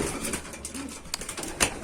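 Pigeons in a loft, older birds pairing up among young ones, give soft low coos amid scattered chirps and a brief wing rustle, close by and fairly quiet throughout.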